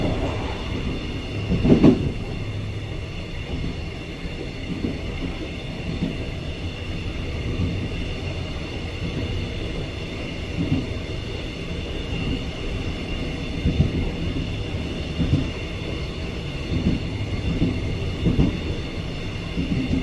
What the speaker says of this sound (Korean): 선로 작업 구간을 안전하게 통과하기 위하여 잠시 천천히 운행하고 있습니다.